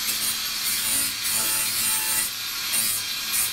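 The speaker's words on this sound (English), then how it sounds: "A little bit of fettling required." Hand fettling of a metal body panel while fitting a wide arch in a two-door Subaru WRX conversion, heard as steady rubbing and rasping strokes in a continuous close-up rhythm with no talk.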